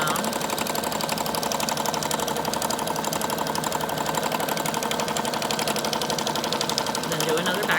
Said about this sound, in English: And I'm going to put it on zigzag here. And start at the fold here. Just do a back stitch.